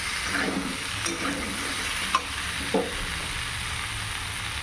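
Pumpkin and boiled potatoes fry in a wok, sticking slightly to the pan, with a steady close sizzle and a few scraping stirs of the spatula, no talking.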